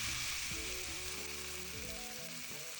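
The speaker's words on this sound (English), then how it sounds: "The pan's nice and hot, so as soon as I put it down, it is sizzling." Chicken sizzles in olive oil in a hot non-stick pan, a loud, dense crackle of frying that holds steady throughout, with some soft low handling clatter underneath.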